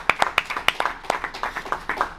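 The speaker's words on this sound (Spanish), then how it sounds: "Venga, un aplauso." A small audience at a lecture claps briefly, sparse and uneven hand claps rather than a full roar, fairly close and fading out within two seconds.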